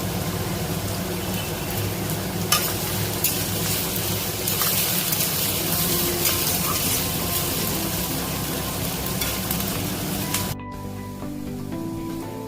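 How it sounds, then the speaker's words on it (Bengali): Dried red chillies sizzle and spit in hot oil for a mutton kasha, a loud, dense, steady frying crackle that holds throughout before dropping suddenly near the end. "শুকনো লঙ্কা দিয়ে দিচ্ছি।"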